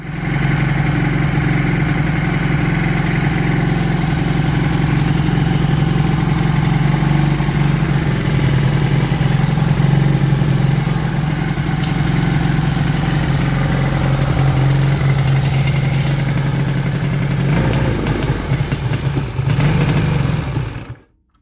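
A Honda CD 175 motorcycle engine runs rough on too much fuel, a steady loud idle with an uneven low throb that holds for about twenty seconds before cutting out abruptly.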